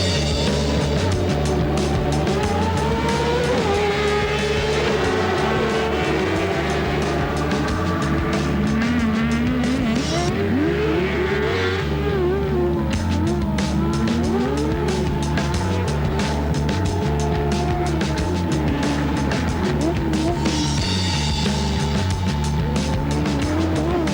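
A racing car driven hard on a very greasy, slippery surface, its engine loud and continuous with revs rising and falling, tires squealing and skidding repeatedly throughout.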